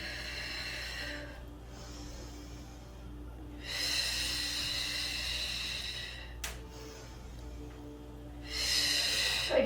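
Three slow, breathy exhalations during a guided breathing exercise, each a soft airy rush lasting a couple of seconds, separated by quiet pauses, with no talking.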